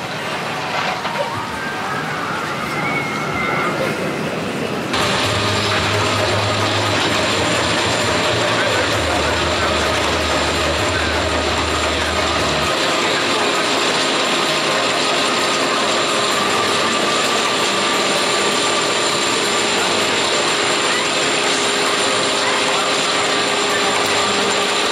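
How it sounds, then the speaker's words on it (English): The Big One roller coaster at Blackpool Pleasure Beach ratchets up its chain lift with fast, loud, continuous clanking at close range, a low rumble beneath and faint voices in the background. "It's now my favourite roller coaster here at the Pleasure Beach."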